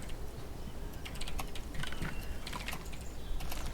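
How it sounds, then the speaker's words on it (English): Rapid, continuous clacking of computer keyboard keys fills a few seconds, steady and fairly close amid quiet background noise during an Insurgency Sandstorm PvP match. "Oh, I hear furious typing."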